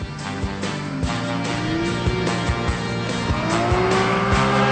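A modified Toyota drift car at a French drifting event wails steadily at high revs while its tires squeal in long wavering tones, with rhythmic engine pulses throughout and no voices.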